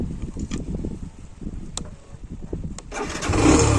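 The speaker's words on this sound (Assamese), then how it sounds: "বাইক ষ্টাৰ্ট দিওঁ, তেল ভৰামগৈ।" A small motorcycle engine cranks and catches beside a main road, its rough putter building into a louder steady idle close by, with wind noise over the mic.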